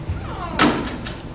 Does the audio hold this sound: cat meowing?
no